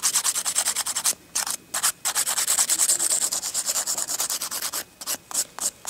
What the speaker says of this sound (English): So if I file this way, the top, and then I go this way and I file the side